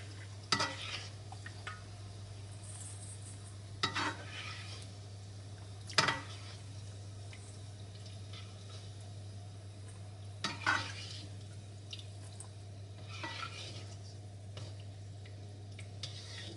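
Cheese egg-dough snacks (telur gabus keju) frying in oil heating up in a pan on the stove, a soft continuous low sizzle with a steady hum, punctuated by a few sharp stirring scrapes and clinks.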